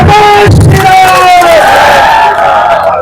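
A large crowd of Hindus protesting against religious conversion shouts and cheers together in a loud, dense roar, with raised voices rising and swelling over the din for the whole stretch.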